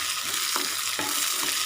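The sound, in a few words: stirring kozhukatta mixture with curry leaves and coriander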